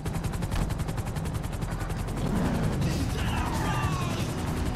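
Rapid crackling bursts of fireworks in GTA V's online roleplay setting pop in a dense, continuous volley over a steady rumble, loud throughout with a few brighter whistling streaks near the end.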